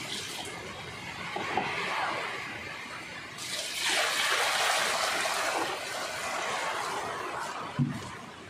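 Water is poured during household laundry, a steady rushing stream that swells louder midway and runs on continuously, with a brief knock near the end and no voices.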